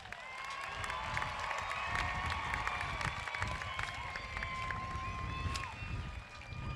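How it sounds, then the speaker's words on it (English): Sustained applause and cheering from a large crowd at a Shadow Hills High School 2023 graduation ceremony, a steady wash of clapping with whistles and shouts riding over it throughout. "Please, everyone, put your hands together as we recognize and applaud our Shadow Hills High School senior scholars."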